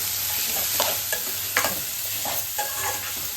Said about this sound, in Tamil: சைடில் அப்படியே மீனும் வறுத்துட்டு இருக்கேன்.